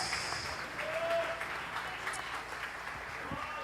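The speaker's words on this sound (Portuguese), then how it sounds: "Quantos dão um aplauso para Jesus?" Congregation clapping for Jesus during a church conference service, a steady moderate patter of many hands with a voice speaking over it.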